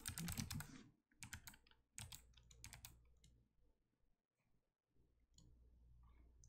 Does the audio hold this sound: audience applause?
no